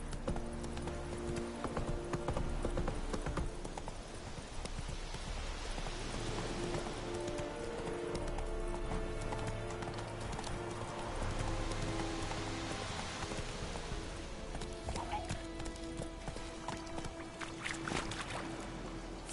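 The horse Roach galloping in The Witcher 3, steady rhythmic hoofbeats pounding on, close and continuous for the whole stretch, with ambient game sound underneath and no talk.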